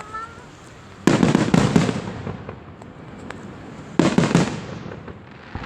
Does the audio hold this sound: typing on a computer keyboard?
no